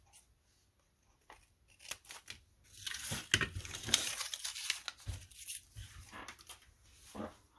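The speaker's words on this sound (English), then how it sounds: "So I'm going to just trim this up." Scissors trim paper scraps up close, a run of crisp snips and rustling paper, quiet at first and then denser and louder through the middle.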